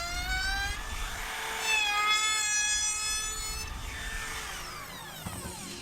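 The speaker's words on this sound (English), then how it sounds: "I then got a round in this little palm router, and I'm just going to put that on the back of the splat" A small palm router cuts a round-over along the back edge of a wooden chair splat, a steady high whine with shifting pitch as the bit moves through the wood, close and continuous.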